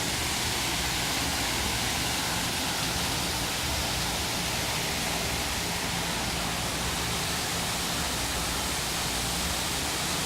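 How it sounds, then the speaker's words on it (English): An indoor waterfall at a Bass Pro Shops mall pours steadily, a dense, constant rushing hiss of falling water that stays loud and even throughout with no voices. "Here's a better shot of that waterfall."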